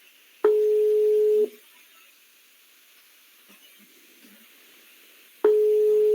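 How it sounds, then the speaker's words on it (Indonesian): A telephone busy signal sounds while a call is placed, as two loud, steady one-second tones separated by a long quiet gap with faint background noise. "Coba saya telepon Pak Bagus"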